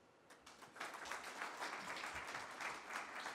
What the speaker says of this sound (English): Big round of applause for you, Jörg